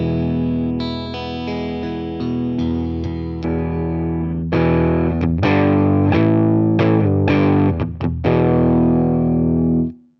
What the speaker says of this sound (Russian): Послушаем, собственно, от каких значений до каких это можно сделать и какой звук из этого комбика можно выжать.